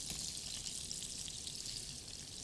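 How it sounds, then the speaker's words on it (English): Onions fry in shrimp-flavoured oil in a home kitchen pan, giving a steady, soft, high crackling sizzle that holds evenly throughout without talk. "So now I'm adding onions."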